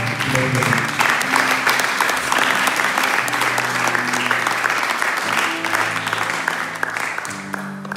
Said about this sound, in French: si nous pouvons applaudir pour la grâce